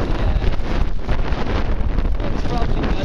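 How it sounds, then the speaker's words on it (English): Strong wind from Hurricane Isaac gusting around 50 to 60, buffeting the microphone with a steady roaring rumble, heavy and continuous for the whole stretch. "It's probably gusting, I don't know, 50, 60 at times."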